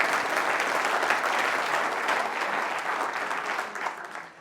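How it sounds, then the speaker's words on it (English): An audience at a history lecture applauds continuously, a dense wash of many hands clapping close and loud that tapers off slightly at the end. "So, yep, go ahead and applaud."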